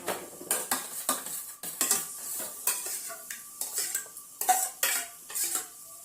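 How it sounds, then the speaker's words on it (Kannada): A metal spoon stirs and scrapes a curd tempering in a pan, with repeated rhythmic clinks and scrapes against the metal, loud and close, with no talk. "ಇದ್ರೊಳಗ ಹಾಕಿ ಈ ತರ ಮಿಕ್ಸ್ ಮಾಡ್ತೀನಿ."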